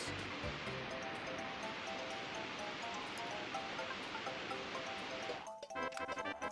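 Water draining away in the Banjo-Kazooie video game, a steady broad rushing wash that fills the scene for several seconds before cutting off abruptly into quieter game sounds.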